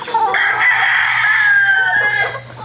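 Bulik gamecock roosters on a farm crow loudly and close, one long drawn-out call filling most of the moment, with clucking from other fowl around it.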